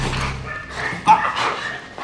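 Military working dogs in controlled aggression training, learning to apprehend people: excited barking and whimpering yips come close and loud amid a noisy, busy training area.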